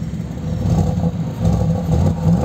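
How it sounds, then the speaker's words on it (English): A Brabus-modified Mercedes G-Wagon idles with a deep engine rumble, then takes a couple of light throttle blips that swell the low exhaust note, close and steady with no talking. "I will give a little throttle so you can see how the Brabus sound is."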